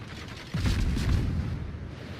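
Naval guns fire shells in the World of Warships video game, a sudden deep boom that rolls into a sustained low rumble, loud and close, with no talking.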